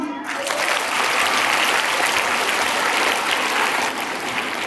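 Loud, dense applause from a school audience of students and teachers at an assembly celebration, a steady continuous roar of clapping with no voices over it.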